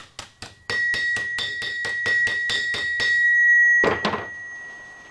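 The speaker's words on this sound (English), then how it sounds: "So we're going to take it over to the anvil and just kind of tap it back down." Hammer tapping on sheet metal over an anvil, a steady series of about a dozen sharp metallic strikes with a sustained ringing tone, ending in a louder clattering blow; no talk.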